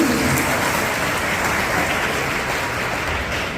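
Steady, dense applause from a seminar audience welcoming a speaker, a continuous wash of clapping that holds at an even level throughout with no talk over it.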